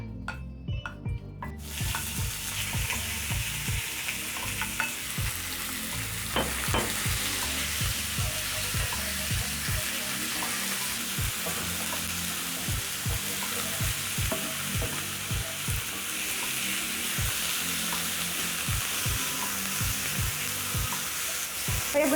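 Beef strips frying in a pan with about a tablespoon of oil, a constant close sizzle under frequent rhythmic scrapes and taps as they are tossed and stirred.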